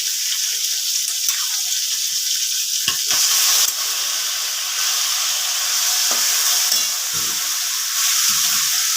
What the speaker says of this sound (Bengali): এবারে আমি অল্প লাউ দিয়ে একটু জিরের গুঁড়ো দিয়ে মশলার সাথে মিশিয়ে নিচ্ছি।